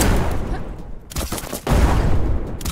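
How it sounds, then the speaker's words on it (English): Upgraded rocket launcher firing in the game Black Skyland, a dense volley of sharp explosive blasts that dips briefly, then resumes in a loud rapid burst. "now that I've upgraded the rocket launcher"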